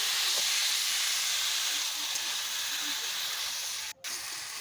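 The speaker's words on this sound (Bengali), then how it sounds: "এতটা সুন্দরভাবে কষাচ্ছি কষাতে কষাতে আলুটা আমার প্রায় আদা সিদ্ধ হয়ে গেছে" A pointed gourd and potato curry with white mustard paste sautéing in a pan gives off a loud, steady sizzling hiss that holds evenly throughout and cuts out briefly near the end.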